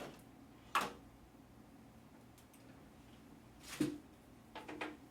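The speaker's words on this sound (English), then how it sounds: "Remove the fuser wand." A fuser wand is pulled from a Lexmark T640 printer, giving a sharp plastic click, then a louder clack and a few light knocks against a quiet background.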